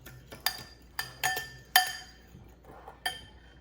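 Heavy whipping cream mixed with an equal amount of another ingredient in a bowl for chicken cordon bleu: a utensil strikes the bowl in about six sharp, ringing clinks at uneven intervals, close and alone.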